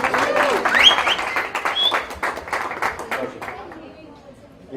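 An audience at a cricket fan event claps together in a dense burst of applause that thins and fades over a few seconds, with chatter and voices mixed in.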